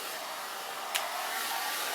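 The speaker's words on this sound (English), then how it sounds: "sounds like shot bearings on the fan" A steady, whooshing hair dryer with worn fan bearings blows continuously, its airflow carrying a rough, slightly uneven whine with a brief click partway through.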